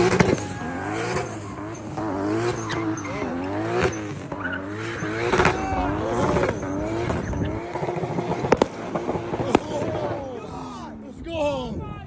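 A car slides at a lively car meet, tires squealing and engine revving in repeated rising sweeps, loud and close, with shouting from onlookers around it.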